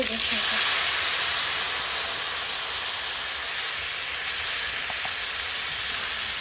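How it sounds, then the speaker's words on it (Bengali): Fish frying in a pan with black cumin seeds, giving a loud continuous hissing sizzle that stays steady throughout at close range. "মাছটা দুই পাশে হালকা হালকা ভেজে নেওয়ার পর ওইখানে কালো জিরে দিলাম"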